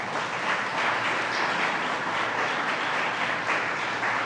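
An audience at a government announcement for a Metro-North transit-oriented development applauds the mayor with a steady wash of clapping at a moderate level, unbroken across the few seconds.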